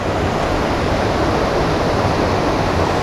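A waterfall at Baden-Baden pours in a steady, loud, broadband rush of falling water with no pauses, close by and unbroken for the whole stretch.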